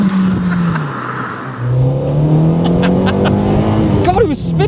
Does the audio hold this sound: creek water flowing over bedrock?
no